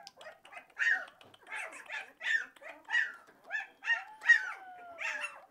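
A livestock guardian dog puppy gives a rapid run of short yips, whimpers and small barks, about a dozen close bursts in quick succession with one drawn-out whine near the end.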